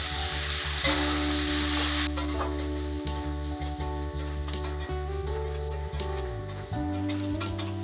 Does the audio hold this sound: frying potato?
yes